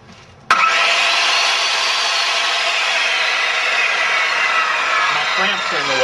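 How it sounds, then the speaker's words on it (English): A 13-amp power saw cutting through a computer motherboard starts abruptly and runs as a loud, continuous grinding, rasping whine close by, holding steady to the end. "And you'll need a saw."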